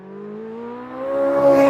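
A 5.5-litre flat-plane-crank naturally aspirated V8 climbs steadily in pitch as it revs, a loud, smooth harmonic howl building toward a high-rpm wail near the end, heard alone with no talk.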